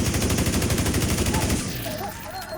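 A Tommy gun in The Division 2 fires a rapid, loud automatic burst for about a second and a half, then cuts off, leaving a quieter tail with a faint voice underneath.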